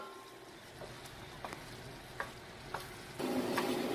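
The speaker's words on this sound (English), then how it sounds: "I'm gonna let it continue cooking like this until all the water has totally evaporated" Asado de puerco, pork, simmers in a pot as the last of its water cooks away, a soft bubbling sizzle with a few light clicks, then the frying hiss swells louder and fuller near the end.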